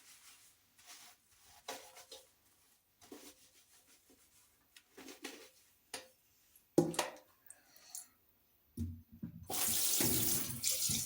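Long hair is rinsed under a running tap, with soft intermittent splashes and rubbing sounds at first, then the water gushes steadily and loudly toward the end.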